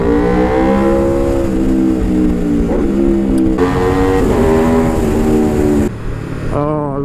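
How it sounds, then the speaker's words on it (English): A 2019 Aprilia RSV4 1100 Factory V4 sportbike revs hard and close, its engine note climbing and dropping through several loud throttle blips before a short dip and another sharp rise. "I just love the noise of the Aprilia V4s"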